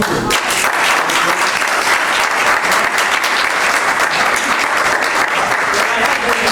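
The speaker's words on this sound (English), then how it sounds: "A round of applause for the judge." At a Hanover Township committee meeting, people honor a judge with loud, dense, unbroken applause that holds steady from start to finish.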